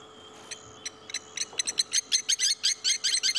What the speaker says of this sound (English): Those are the blacksmith lapwings.